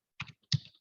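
Key clicks from typing on a computer keyboard during a Zoom meeting, two quick bursts of sharp taps close to the microphone with short gaps, alone without talk.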